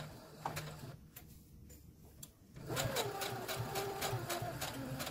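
Sewing machine stitching a cotton face mask, running in a steady, close mechanical whir with rapid ticking after a few quiet, hesitant stitches at the start.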